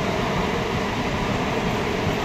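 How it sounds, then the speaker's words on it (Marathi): A train at Dadar railway station gives off a low, continuous rumble and hum, steady and fairly loud, with no talk heard over it. "आता दादर स्टेशनला उतरलो आहे"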